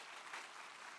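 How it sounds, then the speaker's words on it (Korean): A church congregation gives a brief burst of even, fairly faint applause during a worship service, with no talking. "박수로 환영하도록 하겠습니다."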